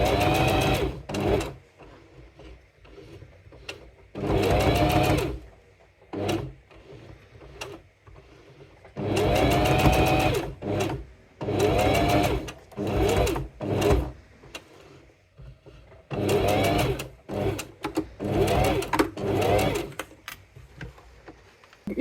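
A sewing machine stitches a terry cloth pouch in a series of loud, close bursts of varying length, separated by short quiet pauses with faint handling noise.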